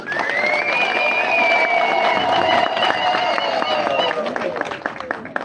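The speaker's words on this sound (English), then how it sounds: "give a big round of applause to these wonderful ladies" Audience applause at a national council meeting of the FDC, given for three women, heard as steady, dense clapping and crowd noise that fills the whole stretch at close range, with a tonal whine running through it.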